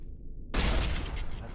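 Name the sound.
explosion in Mass Effect video game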